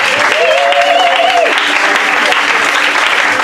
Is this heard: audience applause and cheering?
yes